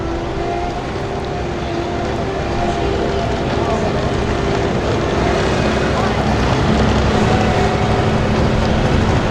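A loud, steady engine roar from a pulling tractor hooking up in the 8,500 lb class at an outdoor evening pull in Mound City, Missouri, droning continuously with wind noise and a faint voice beneath.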